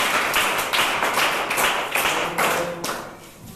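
Students clap together in a classroom during a maths lesson, a run of bursts of close, sharp hand claps, loud and even, with no talking over them.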